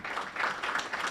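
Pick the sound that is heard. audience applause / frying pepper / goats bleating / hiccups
audience applause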